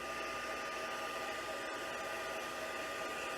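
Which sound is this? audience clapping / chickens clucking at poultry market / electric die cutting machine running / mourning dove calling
electric die cutting machine running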